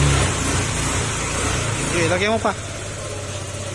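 A Honda Click 150 scooter engine with an overheating problem runs steadily to warm up, a low continuous idle close by beneath people talking.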